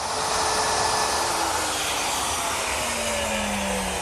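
Router with a 1/4 inch radius roundover bit shaping the edges of a computer desk top, a loud steady whine whose pitch slowly sags as it cuts, with no voices.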